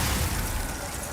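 A Bombarda spell blast in the video game Hogwarts Legacy: a dense, booming explosion that lands at once and rolls on as a rumbling, noisy wash for about a second, fairly quiet overall.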